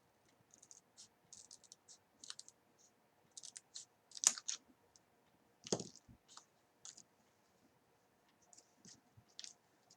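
Paper trimmed with scissors for a pudding box journal: soft, quick snipping and scratching bursts in irregular clusters, close and quiet, with short pauses between cuts.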